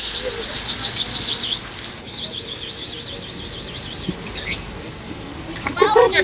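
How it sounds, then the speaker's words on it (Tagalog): Pet birds, pigeons or doves, give repeated warbling high calls and a few chirps nearby, with brief wing rustles and people speaking quietly between the calls. "Ang ganda ibon."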